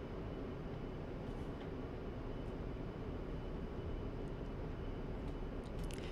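An A-10C Warthog jet in the DCS World flight simulator taking off, a steady, dense roar of engine and rushing noise holding at an even level throughout with no voices.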